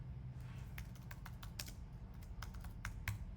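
Typing on a computer keyboard during an After Effects demo, a steady run of quick keystrokes over a low background hum with no voices.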